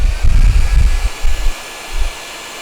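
A heat gun blows on the orange tip of a VFC P320 M17 airsoft pistol, giving a close, steady airy hiss with low rumbling bursts as it is moved about, no talk.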